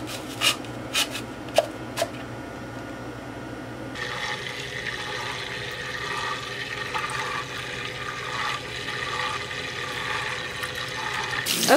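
Running tap water rinses an aquarium filter and lid. The steady rushing stream holds for most of the stretch, with a few sharp plastic knocks before the flow comes in and soft rubbing and handling sounds under the water.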